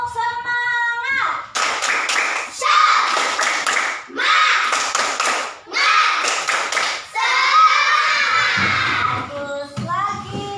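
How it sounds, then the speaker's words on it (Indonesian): Rhythmic spirit clap performed by a class of standing fourth-grade children at an elementary school, four loud bursts of patterned group clapping with short pauses between them, followed by brief quieter claps. "Tepuk semangat."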